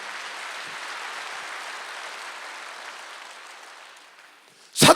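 A church congregation claps together during a Wednesday worship service, a dense, steady wash of clapping that gradually thins and fades, ending with a brief louder burst.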